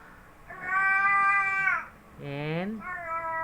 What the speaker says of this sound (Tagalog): Ang walit talaga ng pusa ko.